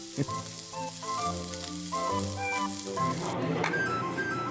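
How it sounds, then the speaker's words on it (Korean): Beef sizzles loudly on a hot grill at an all-you-can-eat beef restaurant with a continuous crackling hiss, under soft background music. "지글지글 구워지는 게 참 맛있어 보이네요."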